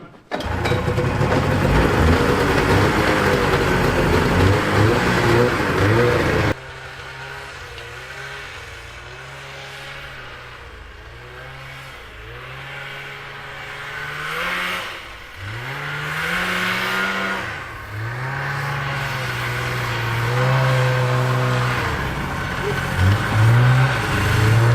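A 1983 Yamaha Enticer two-cylinder snowmobile engine running loud and close, first a harsh steady roar, then a lower uneven idle rising and falling through several throttle blips and revs.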